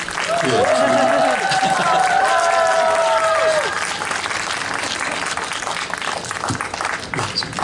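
Warm applause from a concert audience welcoming Bishop Kang Woo-il of the Catholic Diocese of Jeju at a talk concert in Cheongju, loud and sustained throughout with crowd noise, a few brief tonal sounds early on and faint voices mixed in.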